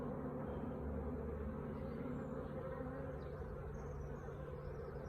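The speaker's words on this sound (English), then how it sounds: "Plenty of bees flying here" A steady, low buzzing hum of many honeybees flying close by around an open hive, continuous and even throughout with no voices.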